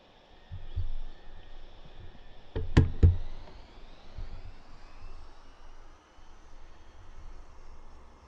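A jet aircraft rolls down the runway in the DCS flight simulator game, its engine a steady rising whine and rumble, broken by a couple of sharp knocks near the middle.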